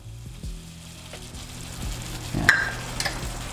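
Butter chicken sauce with cream and evaporated milk being stirred in a pan, giving a soft scraping and gentle sizzle with a few clinks of the spoon against the pan, close and alone.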